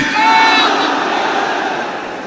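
Large protest crowd at a public meeting roars a slogan back in unison, a loud massed shout that swells early and then slowly fades over a couple of seconds.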